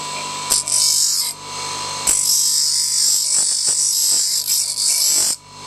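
Grinding away thick metal fins on a bar end mirror for a custom motorcycle, a loud, close power-tool whine in two long bursts with brief pauses and a sharp cutoff near the end.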